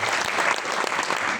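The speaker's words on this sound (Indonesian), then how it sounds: "Tuhan tepuk tangan." Church congregation clapping during a Pentecost Sunday service, a brief, loud burst of many hands clapping together in a steady, dense wash.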